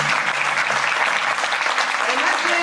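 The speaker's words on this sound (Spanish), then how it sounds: "yo les pido un aplauso para los dos." Brief burst of audience applause at a talk on the history of the alphabet, clapping steady and fairly close throughout, with a faint voice mixed in.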